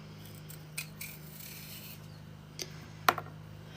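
A knife cutting stringy bits off raw celery gives a few soft scrapes and sharp crisp snaps, the loudest near the end, over a low steady background hum with no talk.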